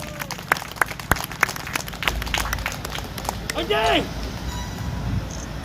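Scattered claps ring out from a crowd at an outdoor political campaign rally in Osan, South Korea. They come in a loose, uneven patter while a voice carries on talking over them.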